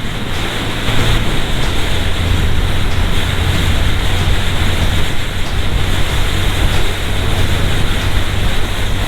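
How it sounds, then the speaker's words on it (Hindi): Very strong wind roars without a break on a winter mountain road trip through Kohistan and Gilgit, Pakistan. It is loud and buffets the microphone, and no one talks over it. "बहुत तेज हवा है यार यहाँ पे।"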